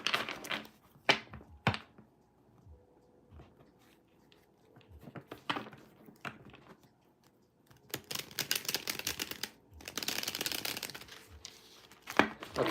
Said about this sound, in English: Because that's who I'm shuffling cards for.